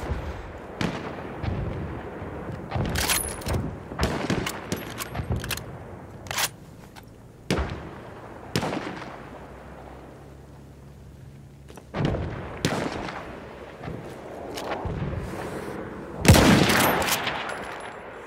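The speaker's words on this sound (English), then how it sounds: "Wait for the enemy artillery barrage to stop firing." Repeated heavy blasts from an artillery barrage in Battlefield 1 rumble through the scene, some near and some far, with quieter lulls between the irregular booms.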